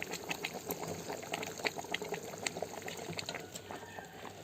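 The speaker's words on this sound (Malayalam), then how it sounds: "നമുക്ക് ഗ്രേവി ഇങ്ങനെ ഒഴിച്ചു കൊടുത്തോണ്ടിരിക്കണം. നന്നായിട്ട് ഒഴിച്ചു കൊടുക്കുക." Gravy is poured steadily over a catfish head curry, toddy shop style, in a Kerala kitchen, giving a soft continuous liquid trickle and splash with small bubbling pops and no voices.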